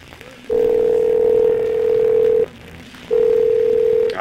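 A telephone dial tone sounds as a steady, loud, continuous tone for about two seconds, breaks off briefly, then resumes for another second, with a line being dialed toward a voicemail system.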